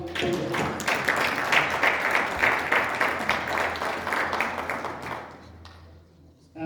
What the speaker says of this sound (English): I hope they would deserve a great applause.